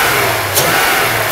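A Mercedes W126 380SEC V8, freshly rebuilt, runs close by with a smooth steady drone and one brief blip of revving partway through.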